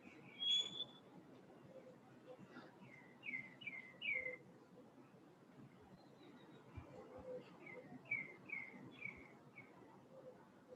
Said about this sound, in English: The sounds of the birds coming through from here in Mexico.